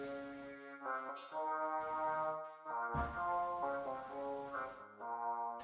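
Quiet, robotic vocoder-processed vocals holding sustained harmonized notes that shift in chords, sitting low in a music mix.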